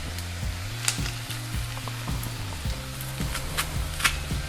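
Ginger and garlic sizzling in a pan for a vegan tofu scramble, a steady close crackle with bright spits and pops, over a low intermittent tonal hum.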